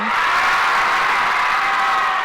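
Cheering and whooping from an audience at a step team performance fill the space loudly and steadily throughout, a dense wash of voices with no single clear shout.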